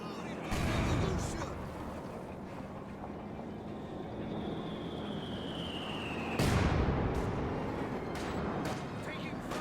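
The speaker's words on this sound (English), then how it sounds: "the mortar takes a big barrage onto them in return" A mortar barrage rains down in Company of Heroes 2: two heavy blasts land a few seconds apart amid steady wind-like battle rumble, with a falling whistle between them and a commentator talking over the action.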